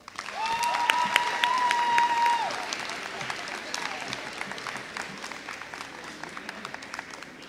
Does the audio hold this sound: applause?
yes